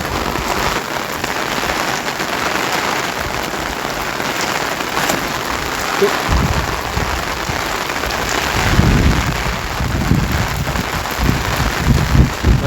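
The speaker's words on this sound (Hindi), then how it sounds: "तेज बारिश।" Heavy rain in a village, a loud, unbroken roar of water pouring onto surfaces, with a deeper rumbling swell building in the second half.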